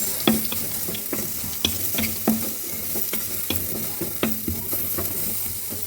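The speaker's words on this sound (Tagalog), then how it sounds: "Ginisang walang mantika. Sibuyas." Sliced onions sautéing in a pan with no oil, a soft sizzle underneath while a spoon scrapes and stirs in sharp, repeated strokes roughly every half second, close and clear, with no talking.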